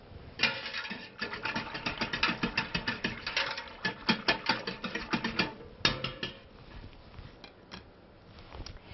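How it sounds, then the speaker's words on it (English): A whisk beats a pectin mixture for jam or jelly in a pan, making rapid, rhythmic close scraping and ticking strokes that run for about six seconds before easing off into quieter, sparser taps. "I'm going to use a whisk to make sure we get all the lumps gone."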